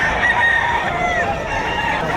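Roosters and chickens crowing and clucking at a livestock auction market in Padre Garcia, Batangas, several overlapping calls close by over a busy crowd murmur.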